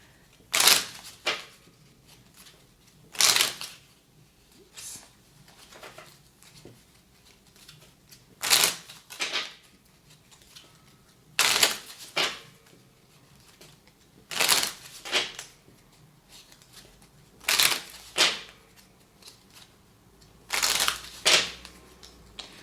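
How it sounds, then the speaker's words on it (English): Playing cards are riffle shuffled again and again, each shuffle a crisp, fluttering burst of a second or two, repeating about every three seconds with quiet pauses between. "I like to rifle my cards"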